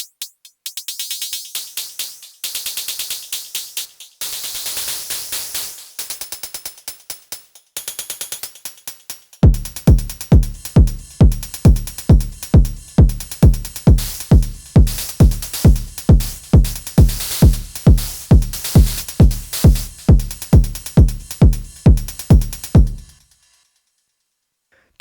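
A BIA drum module in metal mode sounds a hissy, shaker-like noisy pattern at first, then a steady, rapid sequence of sharp, loud percussive hits with a metallic edge, ending abruptly.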